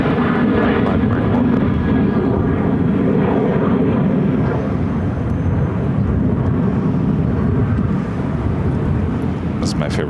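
An American Airlines Boeing 737-800 jet at Phoenix Sky Harbor airport gives a loud, steady, broadband engine roar that fills the whole stretch without letup, with no talk over it.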